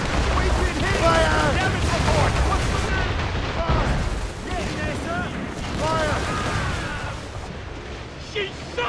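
Naval cannon volleys roar in Assassin's Creed Rogue, heavy booms and rumbling blasts rolling one after another in a loud sea battle while crew voices shout over the fire.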